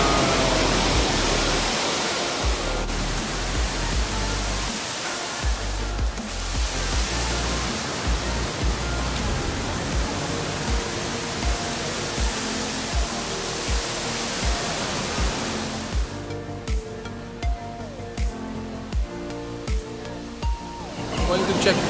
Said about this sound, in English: Water flowing